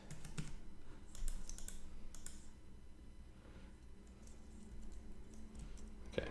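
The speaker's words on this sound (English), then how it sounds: "I mashed the keyboard for a minute" A computer keyboard is mashed with rapid, uneven clicks and key taps, close and fairly quiet, with scattered louder clacks among a steady background hum.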